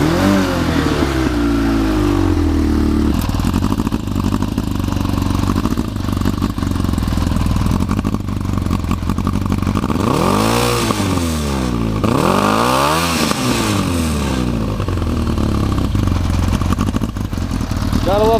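A customized Yamaha XJ600S motorcycle engine runs up close, loud and steady, with two strong rising and falling revs of the throttle partway through before settling back to idle.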